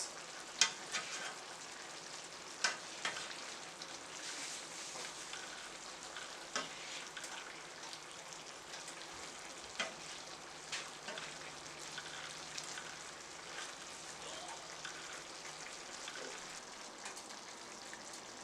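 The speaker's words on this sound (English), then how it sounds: "As the stew is simmering, it's bursting the kitchen with this delightful aroma." A Caribbean Creole-style fish stew simmering in a covered pot in a kitchen, giving a soft, steady bubbling and sizzling hiss with faint intermittent pops and clicks throughout.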